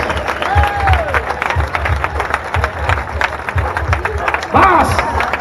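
Marathon spectators at the Valencia start clap and cheer in a rhythmic, crowd-wide beat, loud and close, with a voice shouting encouragement over the applause.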